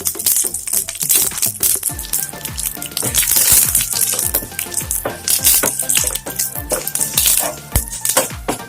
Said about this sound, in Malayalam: കടുക് നന്നായി പൊട്ടിക്കഴിഞ്ഞാൽ അതിലേക്ക് കുറച്ച് നല്ലോണം കറിവേപ്പിലേക്ക് കൊടുക്കാം കേട്ടോ